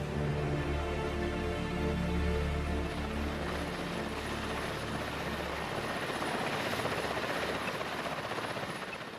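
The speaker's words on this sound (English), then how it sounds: "the helicopter provides a distraction" A helicopter flies overhead in the wild during a tiger hunt for a boar, its rotor chop thumping loud and steady, then easing slightly toward the end.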